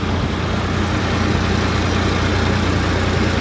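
Steady, heavy rumble of a Sonalika tractor powering a jumbo cumin thresher, loud and close, holding an even level throughout with no speech.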